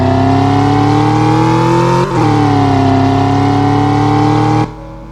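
A loud Roblox video game car engine holds a high rev, dipping briefly mid-way, then cuts off abruptly near the end, leaving a low idle.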